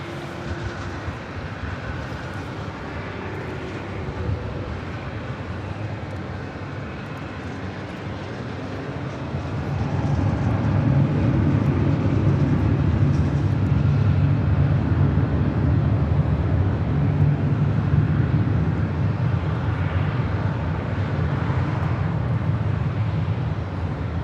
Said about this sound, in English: This A350-900.